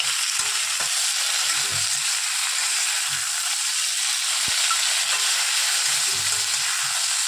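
Matar dal cooking in a pan, with a soft continuous frying hiss and occasional low scrapes and taps of stirring, close and moderate in level.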